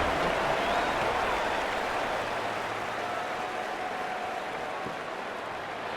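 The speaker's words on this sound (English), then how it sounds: "Night games are always so loud, so obnoxious, and these fans, they get something to cheer about with that first offensive possession." Simulated stadium crowd roaring in the football video game NCAA 27 during a loud night game, a dense, continuous wash of cheering that fades slightly, with no talk over it.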